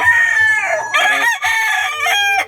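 Close, loud crowing from gamefowl roosters, several long calls one after another with little pause.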